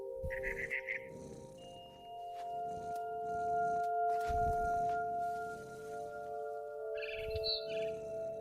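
Short chirping calls of a barn swallow in What Remains of Edith Finch, in bursts at the start and near the end over steady ambient game music and low rumbles.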